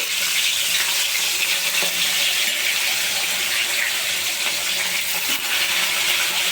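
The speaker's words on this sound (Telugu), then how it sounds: "ఆయిల్ కాగింది ఫిష్ వేసుకోవాలండి" Fish sizzling as it fries in hot oil for a mother-in-law style fried fish, a loud, steady crackle and hiss that fills the whole stretch with no voices.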